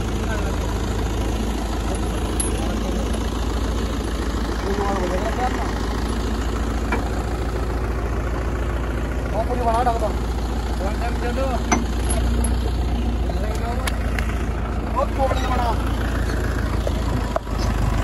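A Mahindra Arjun tractor engine idles steadily right after starting at a stone crusher site, a loud, continuous low rumble that stays even throughout while people talk over it.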